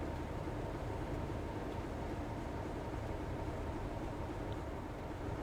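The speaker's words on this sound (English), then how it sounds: "let's climb aboard then, because there's a train there" A Class 31 diesel locomotive in Train Simulator rumbles steadily as it moves, a continuous, dense engine and rail drone that holds at an even loudness throughout with no talk.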